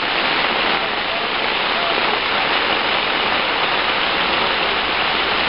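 Heavy rain pours steadily and loudly around an off-grid chicken coop in flooding conditions, a dense unbroken hiss through the whole stretch.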